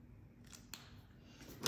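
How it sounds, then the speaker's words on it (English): Scissors cutting paper, a few quiet snips and crisp clicks spaced irregularly, faint and close with no talking. "cut with your scissors along your lines, all the way across, up, and around."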